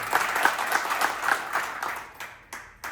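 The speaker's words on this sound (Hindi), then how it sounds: "एक बार अपने लिए जोरदार ताली बजाओ।" Hearty applause from farmers at a yogic farming training program at a Brahma Kumaris ashram, dense clapping that fades out over a few seconds, with a couple of stray claps at the end.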